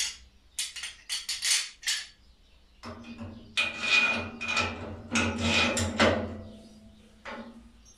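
Through-bolts are fitted into a concrete mixer, bringing close metallic clinks and knocks in scattered bursts over a low steady hum, with no talk.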